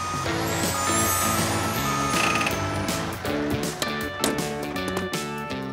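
A cartoon tow truck pulls in, with electronic reversing beeps and a hiss of air brakes mixed into loud, steady background music.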